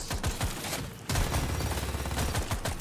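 Minigun fire in the video game Deep Rock Galactic: Survivor, a rapid, dense stream of shots with sharp thumps, a brief dip near one second, then resuming loud and continuous under game effects.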